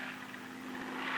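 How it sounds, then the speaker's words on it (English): An F7F Tigercat air tanker drones overhead on a fire-bombing approach, a steady propeller-engine hum with a constant low tone, moderately distant and unbroken. "The lead plane observes the approach and the drop of the air tanker."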